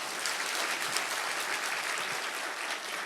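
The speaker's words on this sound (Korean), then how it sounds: "우리 한번 하나님께 감사의 박수를 드리겠습니다." A church congregation claps together during an autumn revival service, a dense, steady wash of applause that fills the whole three seconds at an even level, with no voices standing out.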